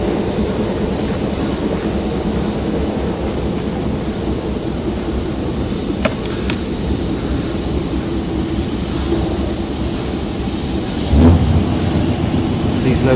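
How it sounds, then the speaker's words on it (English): A Cuban railways train rumbles steadily and loudly nearby, with a continuous low roar and a few clanks near the end. "We're about to go out on this train."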